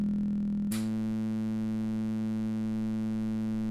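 A synthesizer with a hard-synced oscillator, its master oscillator range switched to 8 feet, plays a steady buzzy tone with strong harmonics. The tone shifts abruptly early on and then holds unchanged to the end, with no voices.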